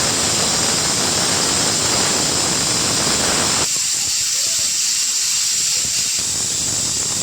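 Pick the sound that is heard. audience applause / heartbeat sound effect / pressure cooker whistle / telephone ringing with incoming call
pressure cooker whistle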